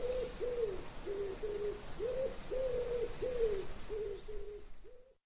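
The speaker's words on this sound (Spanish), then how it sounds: "el canto de las palomas" Doves coo in a repeated rhythmic series of about ten soft, close calls over a quiet outdoor background.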